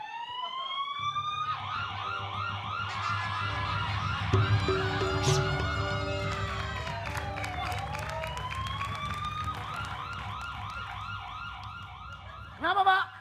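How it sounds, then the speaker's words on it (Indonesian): An ambulance siren wails loudly in repeating rising-and-falling sweeps, with traffic rumble and scattered voices underneath, ending in a sudden sharp burst. "Ambulan!"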